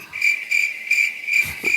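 Crickets chirp in a steady, shrill pulsing trill from a sound-effect button, the repeated bursts even and clear, with a faint low thump near the end.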